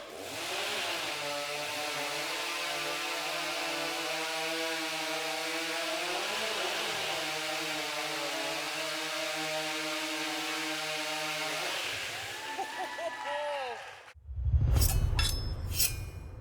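A STIHL stock chainsaw roars at full throttle through timber at a lumberjack competition, holding a long steady howl before dropping off and giving way to clattering and rough knocks as the cut finishes.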